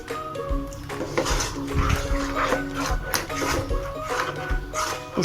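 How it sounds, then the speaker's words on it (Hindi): Sugar mixture being stirred in a pan over medium gas, with repeated scraping and metallic clinks of a spoon against the pan, moderately loud and close, while a voice talks over it. "इसको हम बराबर चलाते रहें।"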